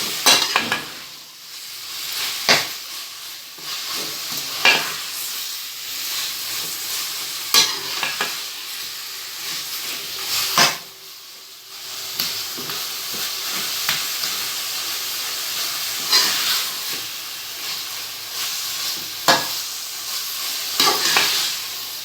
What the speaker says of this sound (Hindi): जो बीफ का कीमा लिया था वो ऐड कर रहे हैं। इसको अच्छे से मिक्स करेंगे।